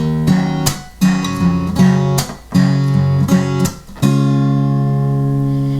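Strummed guitar chords ring out in a steady progression, each chord struck and held for about a second, ending on a longer sustained chord.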